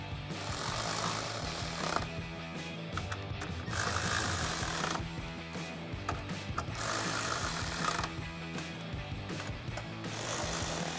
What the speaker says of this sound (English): we'll grab our 10mm socket and tighten all of these down.